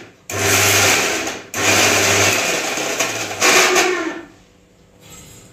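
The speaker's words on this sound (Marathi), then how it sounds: "तर आता आपण छानपैकी मिक्सरला पुन्हा एकदा फिरून घेऊयात।" A kitchen mixer grinder whirs loudly, grinding dry coconut and garlic into a coarse chutney in bursts, pausing briefly between runs before stopping.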